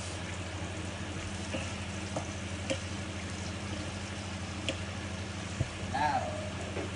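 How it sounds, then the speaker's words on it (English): Butter sizzles softly in a pan while pan-fried trout is basted with caper lemon butter sauce in a restaurant kitchen, with faint spoon clinks now and then and quiet talk in the background. "So we basting the fish like this."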